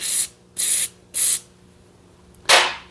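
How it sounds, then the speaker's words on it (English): An aerosol can of Liquid Wrench penetrating oil sprays in four short, sharp hissing bursts on an abandoned engine, the last one longer, close by and with quiet gaps between. "I'll spray this down with some liquid wrench."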